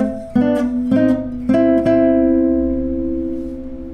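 Acoustic guitar playing a passage from a song: four plucked notes and chords struck about half a second apart, the last one ringing out and slowly fading.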